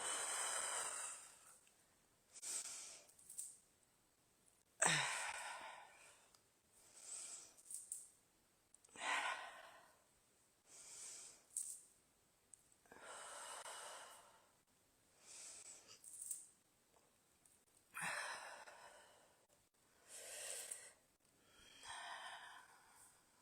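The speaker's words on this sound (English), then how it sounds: "Okay, deep breaths." Deep breathing after a workout, slow loud inhales and exhales repeating about ten times at a relaxed rhythm, close and breathy with quiet pauses between.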